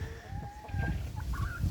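Two backyard chickens cluck and make short rising calls close by, over low rustling and outdoor background noise, without talking.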